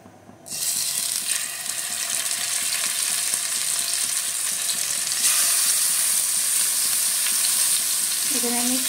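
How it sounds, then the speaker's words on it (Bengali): Pieces of bhetki fish dropped into hot oil, bursting into loud continuous sizzling and crackling that starts abruptly and holds steady, with a brief clink of utensil near the end. "তো চলো মাছগুলো এবার আমি ভাজতে দিয়ে দেবো।"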